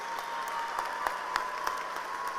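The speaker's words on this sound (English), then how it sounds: "And give your former principal a round of applause here, Mr. Cash." Audience applause for a former principal at a high school graduation ceremony, a steady moderate wash of clapping with a few sharper individual claps standing out, continuous through the short stretch.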